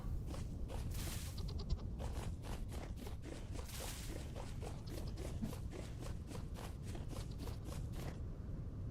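Goats in the Vintage Story survival game bleat repeatedly in quick wavering calls, with soft steps and rustling underneath, at moderate distance.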